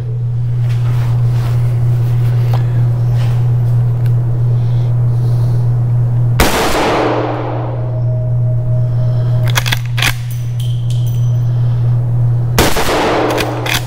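A Henry Big Boy X lever-action rifle in .357 fires three loud, sharp shots several seconds apart at a range, each blast trailing off in echo over a constant low mechanical hum.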